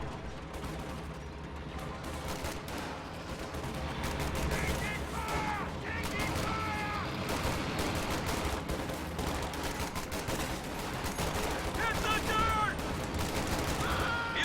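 Dense rolling gunfire from a World War II strategy game battle, infantry volleys hitting a flak half-track amid steady combat noise and music, continuous throughout with a person talking over it.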